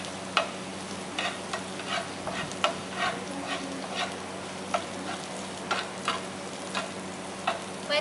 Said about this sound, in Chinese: 那现在要先放蒜头、辣椒，炒一炒，让它有一点黄黄。